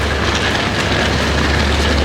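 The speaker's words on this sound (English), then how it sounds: "Early morning train" Steady, loud rumble of an early-morning train rolling on its rails, a continuous broadband roar heard from inside the carriage with no break.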